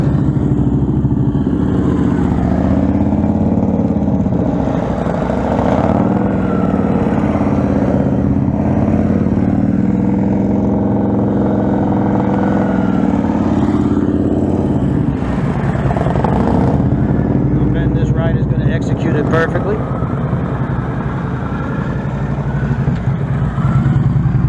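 A motorcycle rides through a series of tight U-turns, its engine close and continuous at low revs, with throttle swelling and easing in slow waves and occasional mechanical clatter.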